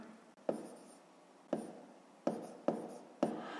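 Numbers written by hand during a 5th-grade maths exercise, five distinct pen-on-paper strokes in quick bursts at an uneven rhythm, close and fairly quiet.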